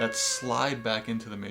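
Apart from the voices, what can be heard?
None of the usual background noises is heard.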